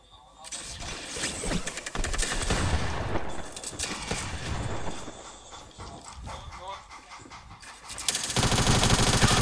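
Rapid SMG gunfire in the mobile version of Fortnite, sustained bursts running across the clip under and between talking voices.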